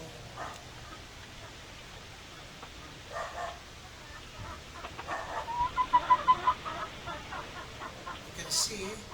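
Free-range bantam hens cluck softly in a backyard, with a quiet run of clucks growing louder midway over faint outdoor ambience, a brief higher call near the end.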